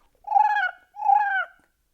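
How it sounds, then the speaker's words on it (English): Two drawn-out, nasal honking calls from a flamingo, close and clear, separated by a short pause, with silence around them. "I hear flamingo fluting in my ear."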